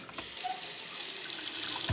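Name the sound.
church urinal flushing with weak water pressure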